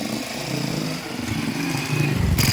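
A motorcycle engine revs up close, a buzzing, throttled drone that rises and surges louder toward the end.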